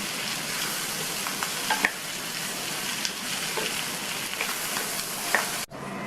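A capsicum stir-fry with coconut and chopped coriander leaves crackles and sizzles in a pan while being stirred, steady frying hiss with scattered scraping taps, close and alone, cut off abruptly near the end.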